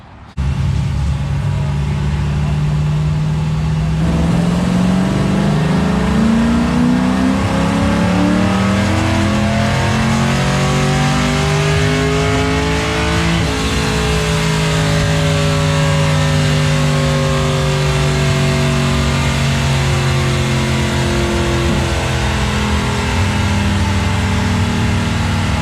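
An LS-swapped third-generation Camaro with a Mufflex 4-inch exhaust is revved hard, its loud deep V8 note climbing through long pulls before dropping back and holding a raised, rumbling idle, with no voices.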